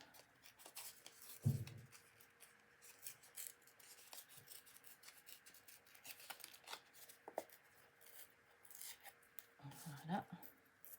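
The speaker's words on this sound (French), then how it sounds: "je vais déchirer un petit peu autour" Paper being torn by hand around a piece for an art journal page, quiet scattered tearing and rubbing with a couple of sharper rips near the start and end, close and soft.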